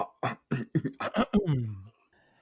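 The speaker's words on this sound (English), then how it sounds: "Let me clear my throat." Someone clears their throat with a string of short, rough rasping bursts up close, ending in a drawn-out guttural grumble.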